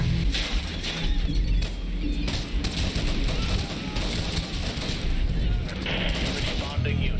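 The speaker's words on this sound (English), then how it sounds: "Last known gunshots were in the front of the building." Rapid bursts of gunfire from the video game Hatred fill the scene, dense and continuous over a busy backdrop of game noise and voices.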